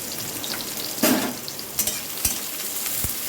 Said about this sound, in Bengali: দেবো পেঁয়াজ কুচি আর কাঁচা লঙ্কা চেরাটা দিয়ে দিলাম, এটা আমি ভাজবো।